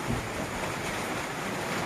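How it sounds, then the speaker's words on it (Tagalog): Steady, dense roar of heavy typhoon rain mixed with gusting wind, loud and continuous with no voices. "lakas ang ulan"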